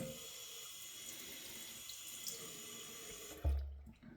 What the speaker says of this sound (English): Let me get the stone, or the razor wet.